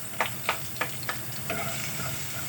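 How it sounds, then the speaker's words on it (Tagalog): Sautéing in hot oil in a Filipino kitchen while making sopas, with a soft steady sizzle broken by four or five sharp clacks of a utensil against the pan, close and alone. "Dahil mainit na siya, so pwede na natin i-gisa."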